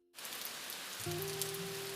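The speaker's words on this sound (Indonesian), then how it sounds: "Hujan deras mengguyur malam itu" Heavy rain pours at night, a dense, loud, steady hiss of drops on surfaces that begins abruptly and continues without a break, with a faint low tone running beneath it.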